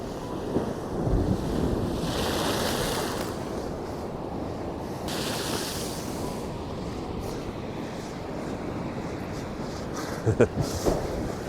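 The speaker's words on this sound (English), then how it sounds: "Let's see if I can get the waves crashing up." Ocean surf rolls and crashes in steady washes of noise, with wind buffeting the microphone and a few faint voices in the background.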